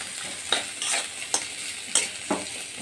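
Onion frying in a pan while being stirred, a steady sizzle broken by several sharp scraping strokes, close and without speech, for a vegetarian Odia-style thali.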